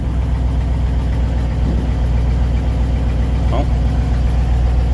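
A 1959 Ford F-100 4x4 pickup engine idles steadily and loud up close, a smooth continuous rumble with a brief voice exclamation over it.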